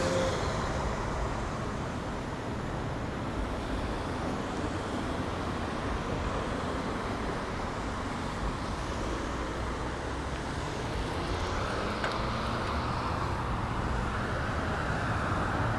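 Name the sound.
car traffic on Southwest 17th Avenue, Miami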